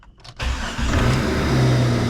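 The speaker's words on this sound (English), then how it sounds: "All right, turning key, fire it up." A Jeep Wrangler JK engine is started with the key, a brief starter crank followed by the engine catching and settling into a loud, steady idle close by, with no talk.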